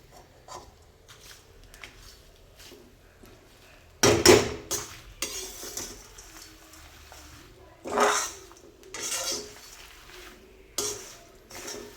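Homemade biryani masala is dry-roasted in a pan over low heat, with irregular loud scraping and rustling bursts of stirring between quieter stretches of faint spoon-on-pan taps.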